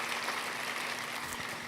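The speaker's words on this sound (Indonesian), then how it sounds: "Boleh dong kasih tepuk tangan buat teman-teman semua yang sudah mempersiapkan yang terbaik." A congregation applauds during a church service, giving a steady, even patter of clapping that sounds moderately distant and fairly soft, with no voices over it.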